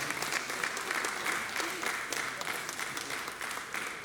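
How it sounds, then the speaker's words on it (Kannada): Loud, sustained audience applause for children at a charitable trust's Women's Day felicitation event, dense and even clapping from a large crowd throughout, with faint voices underneath. "ಬನ್ನಿ ಒಂದು ಜೋರು ಚಪ್ಪಾಳೆಯ ಮೂಲಕ ಎಲ್ಲ ಮಕ್ಕಳಿಗೆ ನಾವು ಅಭಿನಂದನೆ ಸಲ್ಲಿಸೋಣ"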